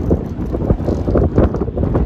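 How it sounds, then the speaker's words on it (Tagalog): Strong wind buffets the microphone on a long Tibetan suspension bridge at Sellano, a continuous loud rumbling roar with gusty surges throughout. "Ang lakas ng hangin guys."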